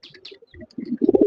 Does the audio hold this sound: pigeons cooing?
yes